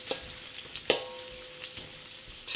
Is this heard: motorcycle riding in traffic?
no